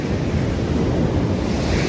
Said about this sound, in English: The waves crash over these things.